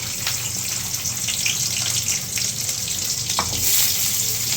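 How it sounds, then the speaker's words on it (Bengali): Chopped onion hits hot oil in a pan and settles into a steady, loud, hissing sizzle that carries on evenly throughout, with nobody speaking. "তেলটা গরম হয়ে গেছে, পেঁয়াজ কুচি দিয়ে দিলাম"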